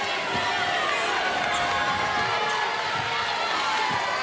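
Basketball arena crowd at Frost Arena during a WNIT game, a dense steady roar of many voices with occasional ball bounces and sneaker thumps, talk mixed in.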